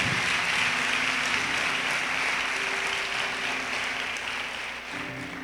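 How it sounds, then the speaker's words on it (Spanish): A church congregation applauds in a sustained, dense wash of clapping that holds steady and then tapers slightly toward the end, with no talking over it. "Denle un aplauso, por favor, al Espíritu Santo."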